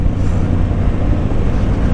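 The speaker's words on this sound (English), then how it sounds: "I wonder if you're going to pick up the exhaust notes" A motorcycle's exhaust note carries through a ride, with a steady, loud low drone mixed with wind rush and no talking.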